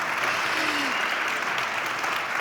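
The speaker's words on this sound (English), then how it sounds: "Round of applause" An audience at a design and wood event in Estonia applauds steadily throughout, a continuous wash of clapping with a faint whistle or cheer early on.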